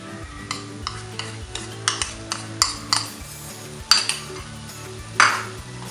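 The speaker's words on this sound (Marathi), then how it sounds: "वाटण देखील संपूर्ण मसाल्यामध्ये एकजीव करून घ्यायचा आहे" Ground masala paste stirred into sautéed spices and ginger-garlic paste for a spicy mutton goat curry, with repeated scraping clinks of a spoon against the pot over a soft sizzle, steady and close.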